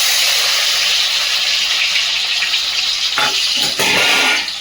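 Soaked cashews and raisins fry in hot oil and ghee with bay leaf and garam masala, making a loud, steady close sizzle with a couple of sharper spurts near the end.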